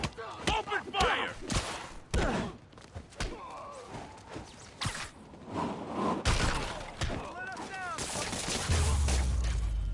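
Video game gunfire in Marvel's Spider-Man, with scattered sharp shots and crashing impacts amid voices and action noise, building into a denser rumble toward the end.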